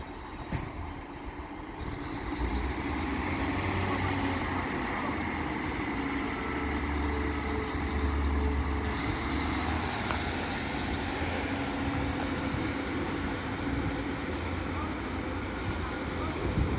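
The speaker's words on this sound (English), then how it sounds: "So now getting ready to depart is 15128 with the 1355 northern service to Blackburn." Northern train 15128 departing Castleton for Blackburn, a steady low diesel rumble and rolling drone heard from the platform at moderate distance, continuous throughout with a voice talking over it at times.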